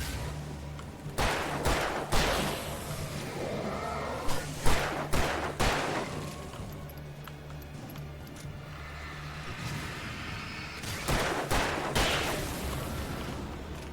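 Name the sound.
gunfire, hip firing in the video game Alan Wake 2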